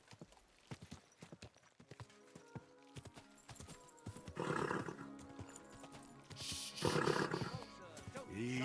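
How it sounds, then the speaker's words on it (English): A horse in a video game neighs loudly twice, with sharp, scattered hoof clops on stone around a cathedral beforehand, close and clear with background music. "You jumped in front of my horse."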